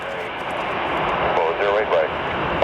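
A US Air Force Boeing 737 C-40C jet roars steadily as it lands at London Gatwick. The loud, sustained engine noise stays close throughout, and a brief voice rises over it near the middle.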